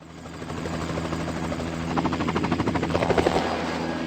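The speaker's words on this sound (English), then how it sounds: "The helicopter will be there in minutes." A helicopter's rotor in Carmen Sandiego & Treasures of Knowledge thumps rapidly and steadily, growing louder and more pronounced toward the end, with a mechanical whine and hum beneath, no talking.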